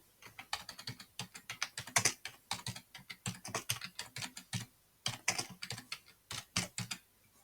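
Rapid irregular keystrokes on a computer keyboard as a password is typed, close and crisp, in quick bursts with a brief pause midway.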